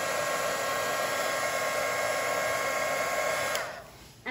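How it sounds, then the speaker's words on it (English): An embossing heat tool blows a loud, steady whirring hiss while heat-setting embossing powder on a background, running evenly before winding down and cutting off near the end. "now I'm going to go ahead and heat set it"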